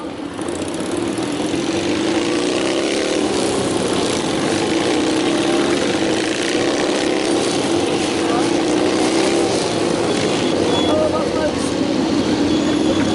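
Motorcycles of the Royal Signals White Helmets display team ride at an outdoor show at the Great Dorset Steam Fair, a constant loud engine drone with a steady low hum rising and falling slightly as the bikes circle, with a commentator talking over it.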